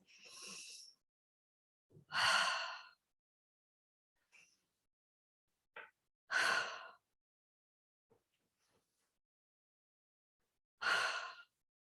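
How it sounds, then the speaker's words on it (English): Three slow, deep breaths with long, audible exhales, evenly spaced several seconds apart, each close and clear against silence, during a seated morning breathing exercise; no talking. "sit straight and take 3 deep breaths"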